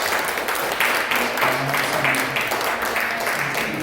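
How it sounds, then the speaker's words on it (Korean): A church congregation at a Korean Sunday worship service claps to welcome newcomers: a full, even wash of applause from the whole room, with faint voices murmuring underneath. "우리 먼저 박수 한번 치겠습니다"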